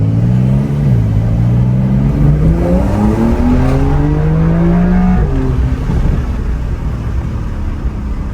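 A Porsche 911 engine revving in a tunnel with the windows down: loud, close, with rising and falling tones through the gears, reverberant and with steady wind roar underneath.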